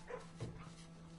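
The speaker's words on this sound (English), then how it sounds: "Hello, doggy." A dog in the video game Blue Prince gives a brief soft bark and whimper, faint and close, over a steady low game hum.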